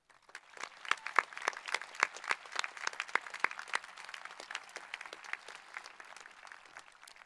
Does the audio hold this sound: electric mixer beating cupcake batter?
no